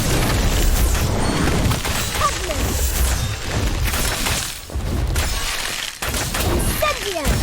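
Incendio fire spells from Harry Potter Magic Awakened burst repeatedly as crashing, shattering blasts with roaring texture, several loud hits close together amid game effects and brief voice.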